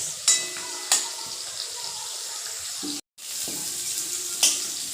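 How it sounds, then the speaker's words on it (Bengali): Fish and meat frying together in a pan give a steady, close hiss of oil with a few sharp clatters of turning or scraping and a brief gap of quiet partway through; no one talks. "তল পিঠটা ভেজে নেবো"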